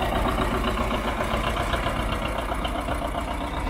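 A John Deere 730 diesel tractor engine runs steadily at idle, a continuous close, dense mechanical rumble with a rapid knocking pulse and no pauses throughout.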